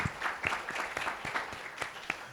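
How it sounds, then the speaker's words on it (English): An audience at a radio-broadcasting event claps for a named engineering team, a fairly quiet but steady crowd patter with a few sharper individual claps standing out, lasting a couple of seconds. "And you can applaud."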